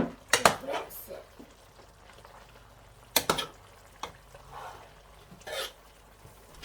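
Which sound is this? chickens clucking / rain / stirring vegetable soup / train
stirring vegetable soup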